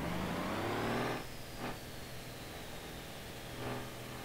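A car engine held in first gear in the BeamNG.drive driving game, revving high, then dropping in pitch and settling into a steady mid-level drone, with no talking.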